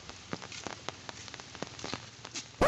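Rain pattering in scattered, sharp drops on a surface, fairly quiet and sparse, with a sudden louder burst of noise right at the end.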